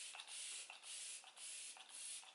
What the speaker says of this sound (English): I'm gonna use a Dewing Setting Spray. This is the Morphe Luminous Dewy Setting Spray.